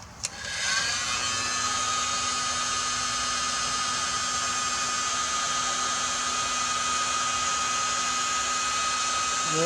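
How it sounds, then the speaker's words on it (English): Heat gun shrinking heat-shrink tubing while wiring an LED light bar on a Ford Explorer grill guard, a steady close blowing whine and rush of air that switches on early and runs unbroken. "Trusty heat gun."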